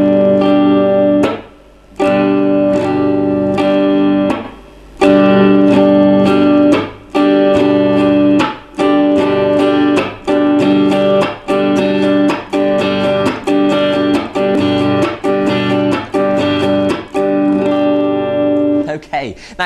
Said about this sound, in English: we're going to go down, up, chop, and then up again.